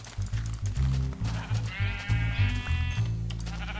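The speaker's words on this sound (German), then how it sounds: "Oh, Schafe." Sheep bleat repeatedly in Minecraft, a string of loud, close, wavering cries over a steady low game background.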